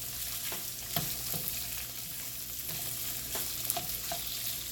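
Shrimp fry in a pan over raised heat, giving a steady, close sizzle with occasional light scrapes and clicks from stirring and no talking.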